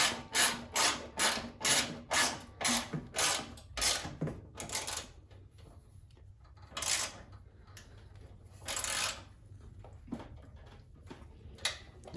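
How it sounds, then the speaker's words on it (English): A ratchet wrench tightens bolts on the underside of an MTD Yard Machines snow blower, a quick run of about a dozen loud, close, rhythmic clicking bursts followed by a few slower, scattered ratchet strokes with pauses between them. "just tighten these bolts down here on the bottom up"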